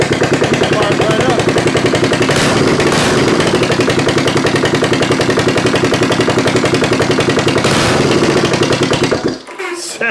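A 1972 Honda CB350 cafe racer engine idles loudly with open exhaust lacking collars, a rapid, even popping and rumbling that holds steady for most of the time, then cuts off near the end.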